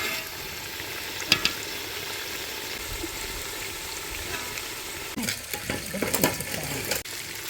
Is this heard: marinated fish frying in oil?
yes